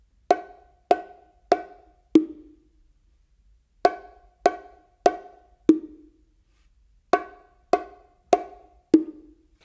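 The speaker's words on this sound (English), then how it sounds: "I'm doing 3 opens with my dominant hand on the macho" Bongos played by hand, three open tones on the higher macho drum followed by one deeper open tone on the hembra, the four-beat pattern repeating three times with pauses between, close and alone.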